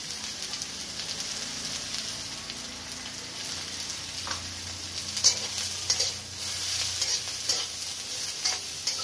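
Cabbage frying in a pan as it is stirred and tossed, a steady close sizzle with scraping stirs and a few sharper clatters of the utensil, with no talking.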